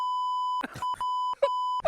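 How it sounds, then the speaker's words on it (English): A steady electronic censor beep tone runs through, briefly broken up by bursts of muffled speech-like sound between stretches of the constant tone. "Oh, beep."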